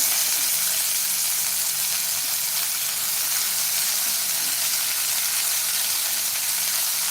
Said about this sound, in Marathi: आता चिरलेले मेथी घालूया